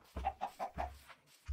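Chicken clucks from the Minecraft video game, four short evenly spaced clucks followed by a pause and one more, clear and close with no talk over them.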